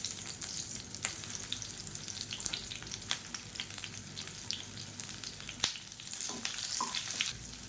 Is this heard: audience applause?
no